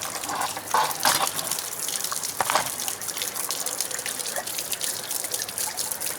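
Water trickling and splashing near a 1979 55 hp Evinrude outboard motor, dripping from where the hose meets the plastic, a steady close watery gush with a few louder spurts and no talk.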